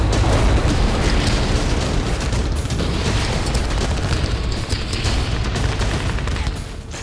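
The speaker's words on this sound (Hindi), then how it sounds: "इजरायली सेना ने उत्तरी गाजा में हमास के ठिकानों को धमाके से समतल कर दिया है।" Continuous loud, rumbling blasts and booming explosions level Hamas positions in northern Gaza during an Israeli military operation, dense and unbroken throughout with no clear gaps between detonations.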